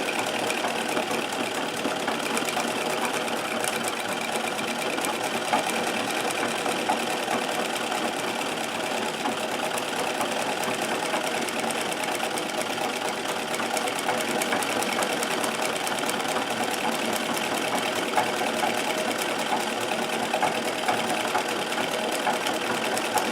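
A Singer 237 sewing machine runs steadily at close range, doing free motion embroidery, with its oscillating hook making a continuous fast mechanical chatter and hum. No one talks over it.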